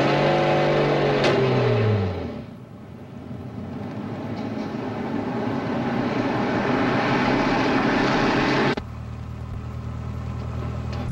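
A taxi pulls away fast on a street in an early-1950s film scene, its engine revving up and then settling into a steady, loud drone that cuts off abruptly near the end. No one speaks.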